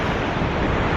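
Ocean surf on the Cinque Terre coast at night rushes in a dense, continuous wash mixed with wind noise, with no voices.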